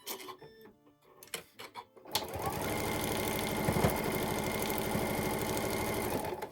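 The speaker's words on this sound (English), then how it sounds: "we're just going to sew two sides on" A sewing machine stitches two sides of fabric for a small needle book, starting after a few brief handling clicks and then running in a fast, steady, loud mechanical chatter.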